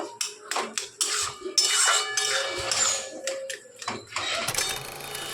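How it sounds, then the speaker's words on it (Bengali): Kochu shak (taro greens) stirred in a kadai, with a spoon repeatedly scraping and clattering against the metal pan, close and fairly loud in an irregular rhythm throughout. "চলো, এটা ভালো করে আমরা নেড়ে নিচ্ছি"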